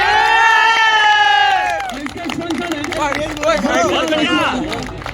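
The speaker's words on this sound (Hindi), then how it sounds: "इसके विजेता है जोरदार तालियों के साथ जय गुर्जर।" A crowd at a cricket tournament prize ceremony breaks into loud cheering, shouting and clapping, a dense noisy roar that stays high throughout.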